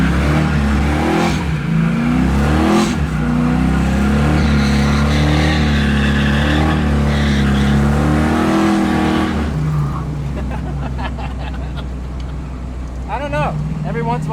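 An LS-swapped Camaro making over 400 horsepower is run hard, its engine roaring loud and near through rising revs and gear changes before the note drops and a sharper rasp follows near the end.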